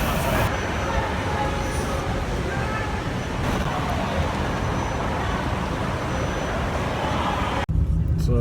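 Steady broadband road rumble inside a car riding away from the airport toward a Chicago seminar, continuous and fairly loud throughout, ending abruptly near the close.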